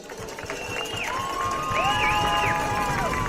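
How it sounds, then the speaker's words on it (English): Crowd of fans cheering at a high school Class B sectional semifinal football game, a broad roar of voices with shrill whistles and shouts rising and falling, heard from a distance. "So you can hear the crowd is gonna be loud early here in this one"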